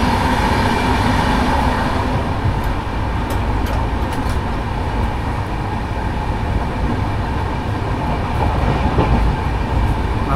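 Chennai Rajdhani Express train passing through Vrindavan Road railway station, with a steady, loud rolling rumble and faint rhythmic clatter of wheels on track for the whole stretch, no voices.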